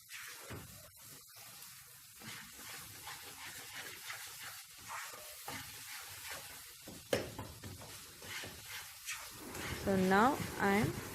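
Pepper and chili flakes being mixed into scrambled egg in a hot pan for bread roast, a steady hissing sizzle with scattered scraping stirs, ending in a brief squeaky rising tone.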